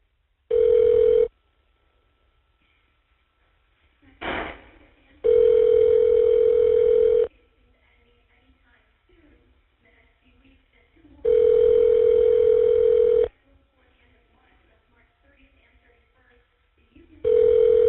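Ringback tone on a prison phone call placed through Evercom: loud, steady electronic purrs lasting about two seconds each, separated by long silent gaps, with a brief click in between and no talking.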